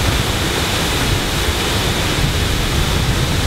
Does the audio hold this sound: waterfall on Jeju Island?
yes